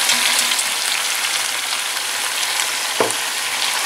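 Fried potatoes are stirred into Georgian ojakhuri with tomatoes in a pan, producing a dense continuous sizzle with one brief utensil knock near the end.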